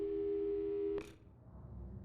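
A steady electronic telephone tone from the Portal 2 video game holds for about a second, then cuts off with a short click, leaving low background noise.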